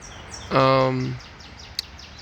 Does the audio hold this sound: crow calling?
yes